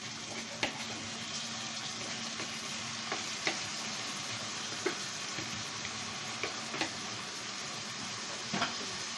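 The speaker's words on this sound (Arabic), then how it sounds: "احنا عرفنا ان الرز لازم يتقلب الاول قبل ما تتحط الميه او الشوربه بتاعته." Washed rice fries in a pot with a steady, soft sizzle. A spoon stirs it now and then, giving sharp scraping clicks at irregular intervals over about nine seconds.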